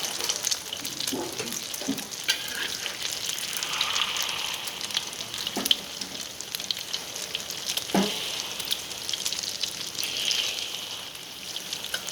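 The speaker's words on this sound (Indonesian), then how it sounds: "Goreng telur iki guys." Steady sizzling of an egg frying in oil in a pan, a continuous crackling hiss with occasional sharper pops and scrapes, heard close and alone.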